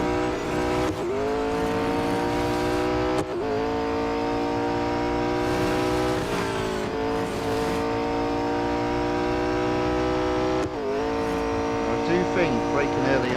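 A race car in the Real Racing 3 video game, its engine whining up through the revs, then dropping sharply at several braking points before climbing again, with a voice talking over it.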